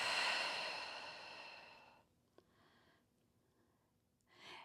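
Deep breaths during a floor stretch in a mat core workout, first a long loud exhale lasting about two seconds, then quieter, fainter breaths and another inhale rising at the end.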